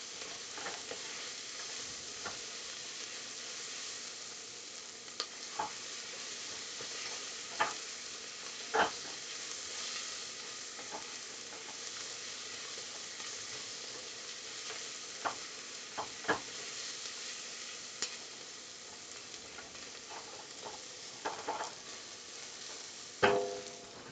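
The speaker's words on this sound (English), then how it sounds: "Stir that around, get the garlic, quote unquote, fragrant." Garlic sautéing in a pan on the way to chicken noodle soup, a soft, steady sizzle with scattered clinks and scrapes as it is stirred around.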